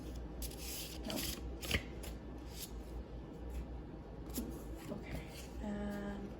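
Oracle cards are shuffled by hand in quick, papery riffles and rubs, close but soft, with a few sharper flicks and short pauses between bursts.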